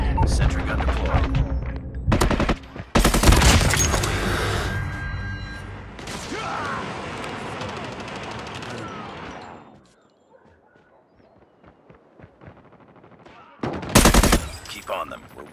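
Rapid automatic gunfire from a deployed sentry gun in the game Call of Duty Mobile, loud dense bursts that run for several seconds, drop to quiet, then return in a short final burst, mixed with game sound effects.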